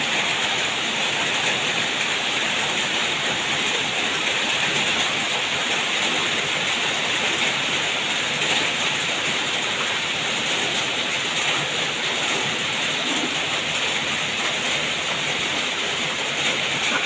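Heavy storm rain pouring down steadily with flowing runoff water in a rural Thai farm setting, a dense, continuous hiss at constant loudness throughout, with no voices.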